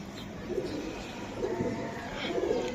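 Giribaz racing pigeons cooing in soft, repeated low coos close by, a few rounded calls rising over a steady background hum with no talk.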